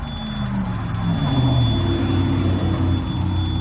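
A Kubota D722 diesel engine on a truck reefer unit with an overheating, no-start fault, cranking in a steady loud drone with a constant whine over it, heard close and alone for several seconds.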